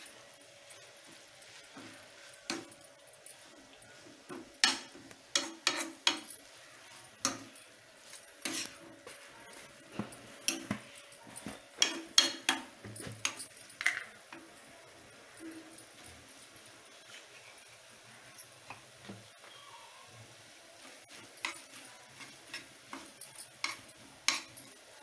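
Noodles are stirred and tossed in a pan for a long stretch, with irregular scraping and clinks of a utensil against the metal, a faint sizzle underneath, moderately close and without talk.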